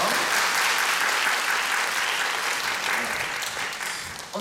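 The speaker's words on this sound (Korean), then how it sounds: "박수 한번 주십시" An audience at a magazine show gift draw claps steadily, a dense wash of applause that holds for several seconds and tapers slightly at the end.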